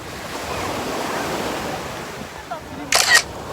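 Ocean waves rolling onto Haeundae beach in Busan, heard as a broad, steady surf wash mixed with wind buffeting the microphone, with a brief bright camera-shutter-like click near the end.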